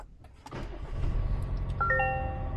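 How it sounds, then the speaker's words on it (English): A 2024 Toyota Tacoma pickup cranks and catches, then settles into a steady low idle rumble. A few bright electronic dashboard chimes ring out near the end, with no talking. "let's go ahead and start the truck up"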